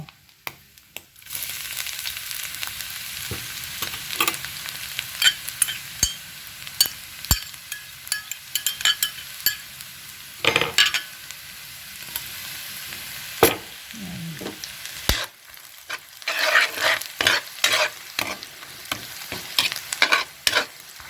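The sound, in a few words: garlic frying in a pan with tinapa (smoked fish)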